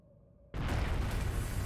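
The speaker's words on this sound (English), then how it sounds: "A flashbang." Flashbang going off in Trails of Cold Steel, a sudden loud burst after a quiet hum, followed by a sustained roaring, crackling wash of noise.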